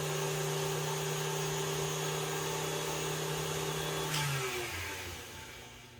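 A meat grinder runs as it grinds brisket, a steady droning motor hum with constant pitch that winds down near the end, close up and with no talking.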